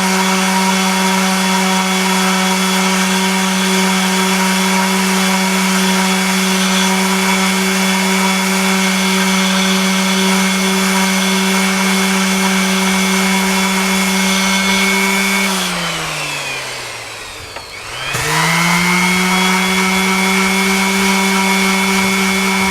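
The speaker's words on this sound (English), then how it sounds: "So we're gonna sand this off." A power sander grinds a piece of wood down to a marked line, giving a loud, close, steady whine with a strong hum that sags and drops in pitch near the end as it bites harder, then quickly returns to full speed.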